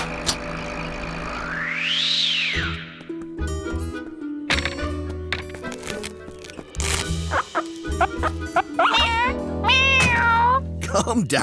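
A cartoon cat in a children's animated show gives several loud, clear meows, some rising and falling in pitch, mixed with music and other effects. A voice also imitates the meow.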